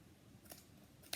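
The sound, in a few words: scissors cutting yarn loops of a pom-pom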